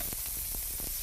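Shrimp hitting hot oil with garlic and ginger in a wok, a loud, steady close sizzle and hiss filling the brief moment.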